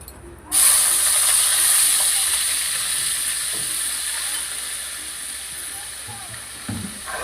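A sudden loud hiss and sizzle as wet onion paste hits hot ghee in a wok, then fades into steady frying with faint clatter.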